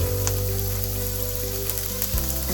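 Diced onion with salt and pepper sizzles in hot oil in a pan, a steady crackling hiss over a low, constant hum.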